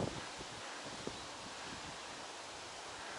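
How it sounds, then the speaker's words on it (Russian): Gusty wind blows outdoors in a park beside a castle, a soft, steady broadband rush with faint rustling and a few small bumps, heard alone with no voices. "И вот этот ветер, порывистый, шквальный"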